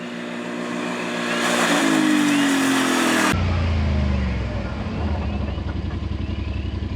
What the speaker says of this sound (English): We are ready to put the pedal to the floor.